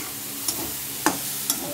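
Ginger paste, garlic, chili and pepper fry in a pan with a steady low sizzle, broken by three sharp scraping stirs of a utensil spaced about half a second apart.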